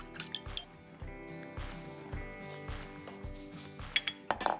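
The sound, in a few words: whisking eggs in a bowl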